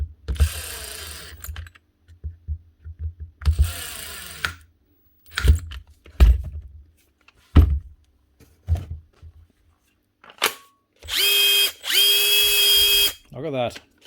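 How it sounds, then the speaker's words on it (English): A Makita DTD154 impact driver, just repaired after a broken gearcase, is triggered in several short bursts, then runs for two longer sustained whirring stretches near the end, close and loud. "That should be this little Makita impactor,"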